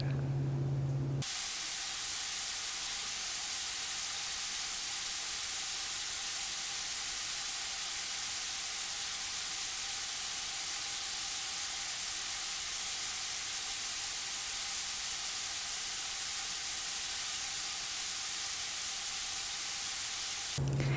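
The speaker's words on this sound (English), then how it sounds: "Then add small cut pineapple and cook well and drain." Small pieces of pineapple fry in oil in a pan while cooking for shrimp biryani, giving a loud, steady, unbroken sizzle that holds evenly from start to finish with no voices.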